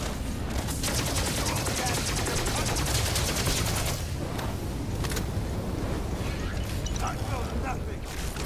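Plasma rifle fire in the game Starfield, a dense, loud, continuous burst of rapid shots with sharp crackling bursts, sustained for several seconds with a voice talking over it.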